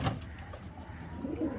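Pigeons of domestic fancy and desi breeds coo softly in a brief, faint burst amid quiet background noise.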